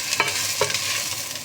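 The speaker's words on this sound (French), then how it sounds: "On fait ça avec la cuillère à bois pour éviter de râper la casserole." A wooden spoon stirring oil in a saucepan, soft scraping strokes with a couple of light knocks over a steady hissing sizzle, close and continuous.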